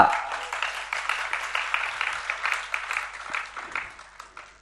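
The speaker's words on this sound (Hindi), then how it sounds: "क्यों ताली तो बहुत देर के बाद बजा दिया।" Audience applause at a Jain religious discourse by Acharya Vidyasagar in Shirpur, a steady spatter of many hands clapping that keeps going without a pause for several seconds, thinning slightly toward the end.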